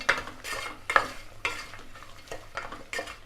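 Onions with turmeric are turned in a pan for coconut milk biryani, with a spatula scraping in repeated, evenly spaced strokes over a soft, continuous sizzle.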